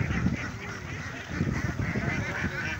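A large flock of ducks on an Indonesian duck farm, a dense chorus of honking quacks that stays loud and continuous throughout.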